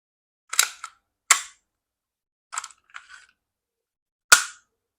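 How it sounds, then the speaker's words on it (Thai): A secondhand Double Bell G17 gas BB pistol is dry-fired with no pellets loaded, giving about six sharp, crisp pops at irregular intervals, close and loud against near silence. "เดี๋ยวจะยิงเปล่าให้ดูนะครับ จะไม่ได้ใส่ลูกนะครับ ให้ดูระบบนะครับ"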